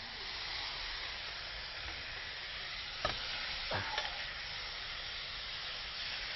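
Bulgogi sizzles in sesame oil in a very hot pan, a loud continuous frying hiss that holds steady, broken by a couple of brief stirring scrapes near the middle.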